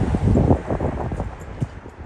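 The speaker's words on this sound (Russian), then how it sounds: "Я иду против ветра, не знаю, слышно вам" On a city street walk in Yaroslavl, wind buffets the microphone in uneven low gusts and thumps, strongest early and easing toward the end, with no speech.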